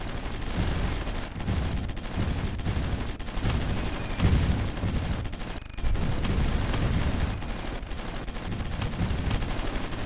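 Anti-aircraft guns firing in the war strategy game Supreme Ruler Ultimate, dense rumbling bursts of gunfire and booms repeating throughout with no pauses, steady and loud.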